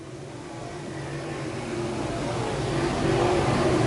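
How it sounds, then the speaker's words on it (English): Crate late model race cars roar around East Bay Raceway, a dense continuous engine drone heard from a distance that swells gradually louder as the field approaches. "car looming large behind Max Blair in the 111 machine"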